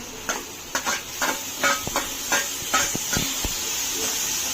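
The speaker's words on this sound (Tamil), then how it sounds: "தக்காளி வந்து நல்லா வந்து வதங்கணும். வெங்காயம் தக்காளி நல்லா மசையணும்." Onions and tomatoes sauté in oil in a pan for Chettinad chicken, a soft steady sizzle broken by repeated scraping and stirring strokes from a utensil against the pan, fairly close.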